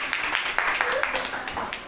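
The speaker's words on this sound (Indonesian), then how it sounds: "Tepuk tangan lagi." Students in a classroom clap together in a quick run of about eight brisk, evenly spaced claps lasting under two seconds, fairly close and at moderate volume.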